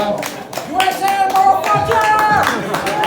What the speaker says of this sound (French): Il va falloir faire un tonnerre d'applaudissements pour les United States of America.